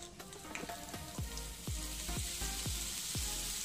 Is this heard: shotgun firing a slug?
no